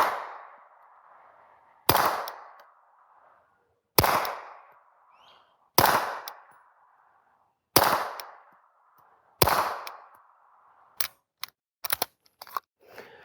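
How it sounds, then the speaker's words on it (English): A SIG P226 9mm pistol with a GM9 suppressor fires into a dirt berm below a plate rack, giving five evenly spaced sharp reports about two seconds apart, each with a decaying ring, followed by a quick burst of shorter cracks. "I'm going to shoot into the dirt berm beneath my plate rack so we can get an idea of how it sounds"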